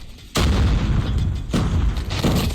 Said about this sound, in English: Bomb dropped.